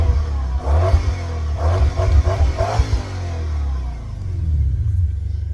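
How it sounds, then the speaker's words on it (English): A Toyota 3UZ V8 engine, freshly reflashed, rumbles at idle and then revs up in several quick blips before settling back to a low, steady idle; nearby and loud. "check the idle speed does drop down like it should, check it revs nicely"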